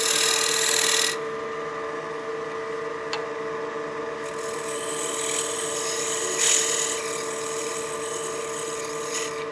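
Skew chisel cutting into spinning wood on a lathe for a utility box, a brief loud scraping at the start, then a quieter steady whir of the turning piece with faint rubbing.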